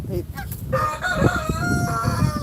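A young juvenile rooster crows nearby with a rough, drawn-out call that wavers in pitch, preceded by brief clucking and background rustle.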